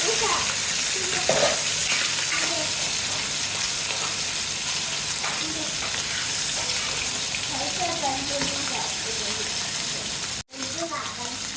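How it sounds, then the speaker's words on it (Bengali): Fresh hilsa fish frying in a pan, a steady broadband sizzle running the whole time with scattered crackles and pops, cut by one brief dropout near the end; no one speaks. "ইলিশ মাছ ফ্রেশ ছিল বাজার থেকে নিয়ে আসছি এটা এখন ভাজ ভাজ ভাজতেছি"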